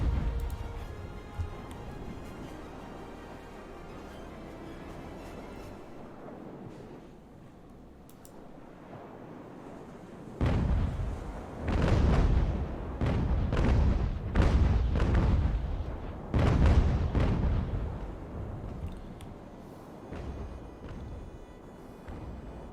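Naval cannon fire in the video game Ultimate Admiral: Age of Sail, a series of heavy booming broadside shots landing in irregular clusters, loud and close, after a quieter stretch of distant rumble.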